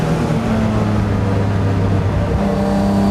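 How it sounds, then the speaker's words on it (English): BMW E36 race car, garage built, screaming at full throttle on a track, a loud steady engine roar with strong harmonic tones climbing slightly in pitch toward the end, continuous and close with no talking. "There's full throttle."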